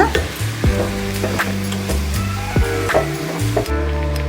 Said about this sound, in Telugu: ఇప్పుడు మనం కట్ చేసి పెట్టుకున్న పొట్లకాయ ముక్కలు వేస్తున్నాను. కొంచెం కలిసేలాగా అటు ఇటు తిప్పుకుందామండి కాస్త.